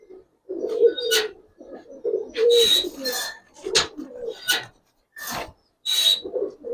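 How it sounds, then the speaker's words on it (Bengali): Giribaz silver pigeon chicks coo close by in repeated throaty bursts with short gaps, some ending in a brief rasp, and no one speaks. "প্রত্যেকটা কবুতর দেখেন"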